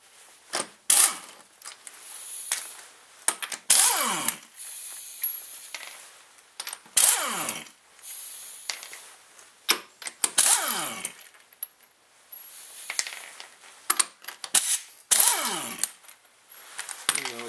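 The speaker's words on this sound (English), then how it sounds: "I'm just using the gun to make it easier to rip everything off." Impact gun on a 2001 Dodge Grand Caravan wheel, firing in repeated short whirring bursts with pitch sweeps, separated by pauses and clanks, close and loud.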